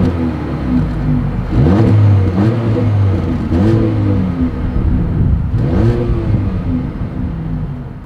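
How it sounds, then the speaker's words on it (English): 2024 Mercedes-Benz GLA 250 exhaust note as the engine is revved in several short blips, each rising and falling in pitch over a steady idle, close and loud with no talking. "As always, here is that exhaust clip."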